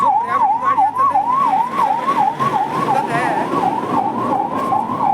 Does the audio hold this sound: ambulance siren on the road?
yes